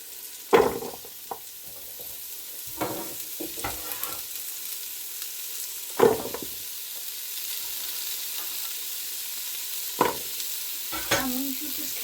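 Swede and carrots fry in a Ninja 15-in-1 pot under a soft, steady sizzle, broken by several louder bursts of stirring and scraping spaced a few seconds apart.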